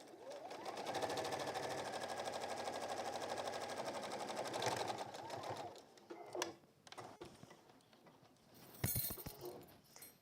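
A sewing machine stitching a bag runs in a fast, even mechanical chatter for about five seconds, then stops, followed by scattered clicks and handling knocks nearby.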